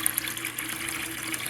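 Cold filtered water pours and splashes steadily into a container, a continuous bright gushing sound heard close up with no talking.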